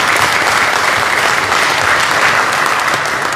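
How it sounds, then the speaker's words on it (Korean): Dense, steady audience applause at an art museum anniversary ceremony, a continuous wash of many hands clapping loudly from start to finish. "여러분 큰 박수로 다시 한번 응원해드립니다"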